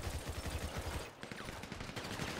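Rapid automatic gunfire in a Grand Theft Auto roleplay game as players shoot at an underground boss, a dense burst of repeated shots with a short gap before firing resumes.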